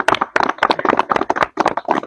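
A group claps in quick, rhythmic bursts with short pauses between, loud and close with no talking, during an interview with a singer.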